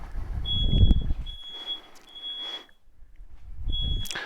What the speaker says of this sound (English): Sorry if you can hear that smoke detector.